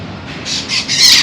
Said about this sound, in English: And the birds are giving me heck for being in the garden.